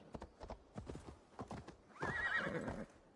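A horse in Assassin's Creed Valhalla clip-clops through a series of sharp, evenly spaced hoofbeats, then lets out a loud, drawn-out neigh, all fairly close and clear.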